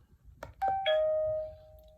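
Tuya Elivco wifi video doorbell chime ringing once, a couple of quick tapping clicks followed by a clear, sustained electronic tone that fades after about a second.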